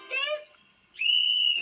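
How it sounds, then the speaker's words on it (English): A voice briefly precedes a single clear whistle blast, held for about half a second at a steady pitch, close and loud. "The whistle can be heard far away, and your friends will know where you are."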